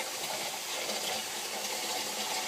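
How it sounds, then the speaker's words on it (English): Water runs steadily down into an aquarium tank reservoir with a big filter sock and bio balls, a constant close gushing splash without pauses. "You can see the water running down."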